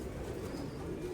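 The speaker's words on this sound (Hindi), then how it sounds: "दोस्तों ये कबूतर हैं कि" Mian Nazir breed pigeons cooing in a steady, low murmuring stream, close and continuous with soft overlapping calls and a faint high tone above.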